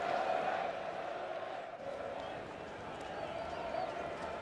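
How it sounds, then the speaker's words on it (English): At a 1996 Pakistan versus Australia cricket match, a large crowd gives a sustained ovation with dense, steady cheering and clapping at an even level, while a commentator talks over it. "he's received a huge ovation from this crowd"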